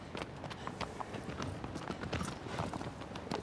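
Hooves of a horse galloping in Shadow of the Colossus, a fast, steady clip-clop rhythm close by, continuous and moderately loud with game ambience underneath.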